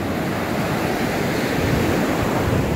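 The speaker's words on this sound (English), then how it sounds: "Look at those waves." Ocean waves break and surge on the North Shore of Hawaii in a steady roar of surf, loud and close, with wind buffeting the microphone.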